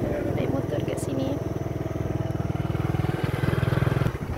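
A motorcycle riding along on Pulau Tuba, an island in Langkawi, its engine putting steadily and close throughout, with a person talking over the motor.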